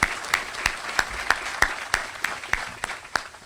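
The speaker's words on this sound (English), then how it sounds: "Everybody, one more round of applause for UNLV President Keith Whitfield." Applause from an audience at a press conference introducing a new UNLV head football coach, a crowd clapping steadily for the university president, close and fairly loud across the short stretch.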